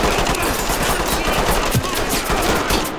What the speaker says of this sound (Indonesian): Nggak tahu dia nembaknya dari mana.